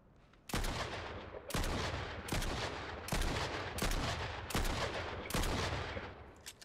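Heavy gunfire in a shooter video game: about six loud, rapid sustained bursts of automatic fire, each cutting in abruptly after short pauses, close and dominant with no voices.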